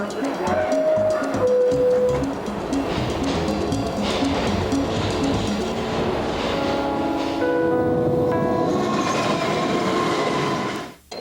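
A New York subway train rumbles loudly along the tracks, wheels clattering steadily, with high metallic squeals and whines rising over the continuous roar.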